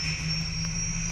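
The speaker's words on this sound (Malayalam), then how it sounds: "നമ്മൾ ഹെലികോപ്റ്റർ വെച്ച് എസ്കേപ്പ് ചെയ്യാൻ പോവാണ്" A helicopter engine spins up in the horror video game Granny 2, a steady whining drone with a humming low rumble, heard alone for a brief moment.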